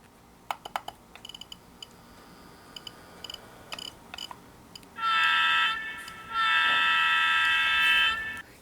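A model train locomotive on a DCC layout under ESU CabControl wireless control: scattered mechanical clicks and ticks, then two sustained bursts of a steady high electric whine as the motor runs, close and without talk.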